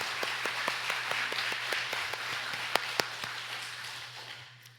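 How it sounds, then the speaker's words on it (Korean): A church congregation claps together after a hymn and string performance, a steady patter with a few sharper individual claps, fading toward the end over a low steady hum. "하나님께 영광의 박수 올려드릴까요?"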